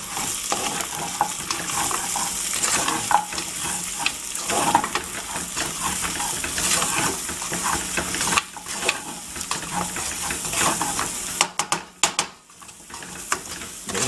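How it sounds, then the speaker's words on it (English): Spices such as garam masala, dried ginger and pepper powder are stirred into simmering paya (trotter) soup with garlic, giving a steady wet scraping and bubbling texture that runs throughout, with a few sharper clinks near the end. "And now let me mix it."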